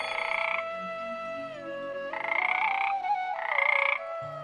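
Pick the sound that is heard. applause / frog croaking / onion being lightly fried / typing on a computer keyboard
frog croaking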